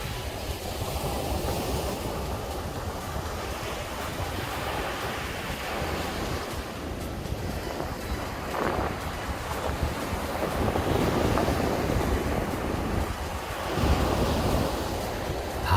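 Ocean waves roll onto the Samcheok coast in Korea in a continuous surf roar mixed with wind, steady throughout and swelling slightly toward the end; no talk.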